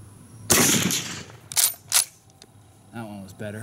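A Schmidt-Rubin 1889 Swiss rifle fires a GP11 round with one loud, close blast, followed by two sharp metallic clacks, and then a voice speaks briefly.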